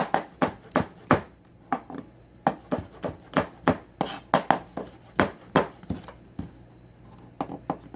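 A knife slicing Roma tomatoes on a cutting board gives a steady run of crisp, close chopping taps in an even rhythm, a few landing harder than others, with no voices.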